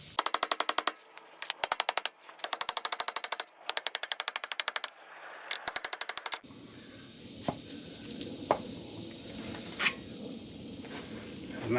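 Rapid bursts of sharp metallic hammer blows on a Ford Super Duty wheel bearing, struck in quick volleys with short pauses, then a quieter stretch with a few isolated knocks.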